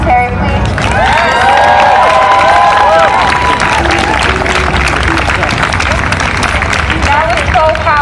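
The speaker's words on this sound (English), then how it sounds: "of applause for Terry, please?" Loud outdoor rally crowd at a post-election justice gathering in Rhode Island, clapping, cheering and shouting together in a sustained roar, with voices rising above the noise.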